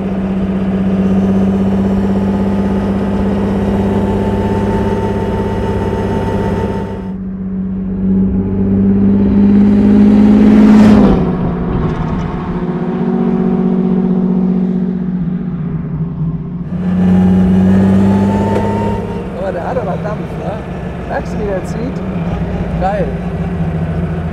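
A 1927 Mercedes 680S touring car engine rumbles steadily at idle and under light revving throughout, with someone talking over it much of the time.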